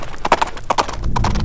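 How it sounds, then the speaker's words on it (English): Horses of mounted riders on a battlefield beat out quick clip-clop hoof strikes in a brisk, loud burst, up close, with a faint whinny mixed in. "Theoden on his horse circles amongst the Rohirrim riders"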